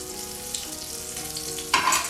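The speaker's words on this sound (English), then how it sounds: "Just mix this up a little bit." Food sizzling in oil in a pan while being stirred, a continuous close crackle with a sharper scrape and burst of sizzle near the end.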